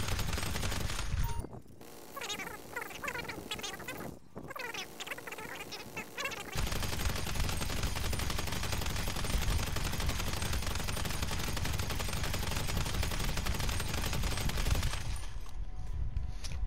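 Gunfire in a video game, with bursts of rapid, dense shots and mechanical clatter, then a long continuous loud stretch of overlapping firing and noise, heard without talk.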